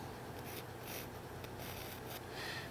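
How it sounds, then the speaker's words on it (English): A pencil scratches out a rough, loose outline of a hummingbird in soft, faint strokes that repeat steadily against a low hiss, with no voice over it. "Let's just get a very rough, quick, loose sketch, but very accurate sketch."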